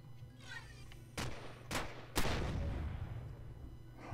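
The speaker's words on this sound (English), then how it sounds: "will you please stop shooting at me?" Gunfire in the space survival video game Empyrion Galactic Survival: three sharp, loud bursts about half a second apart, the last followed by a longer rumbling decay over a steady low background hum.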